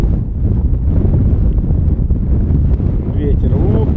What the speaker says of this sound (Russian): Ветер, ох и ветер.